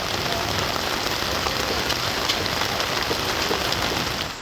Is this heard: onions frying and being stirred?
no